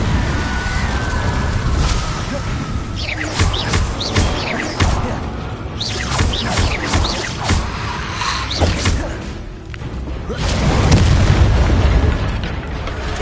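Incendio fire spells cast over and over in Hogwarts Legacy on PS5, a dense run of loud booming bursts and crackling blasts layered on steady game noise, with no talking.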